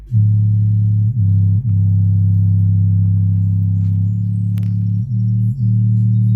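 Loud, sustained low bass tones pour from 15-inch subwoofers mounted on a bare baffle with no enclosure, a steady heavy drone broken by a few brief dips and restarts, with faint background clatter.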